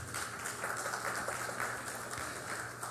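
An audience at a judicial conference claps for the moderator, a soft, steady patter of many hands heard from a distance, with no voices.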